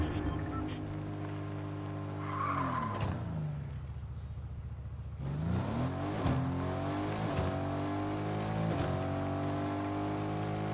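A car engine in the Fortnite video game revving up through the gears, its pitch climbing and dropping back with each shift several times in a row, steady and fairly loud with no talking.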